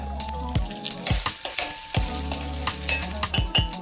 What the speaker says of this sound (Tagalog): We will simmer this for another 3 minutes until the meat is tender.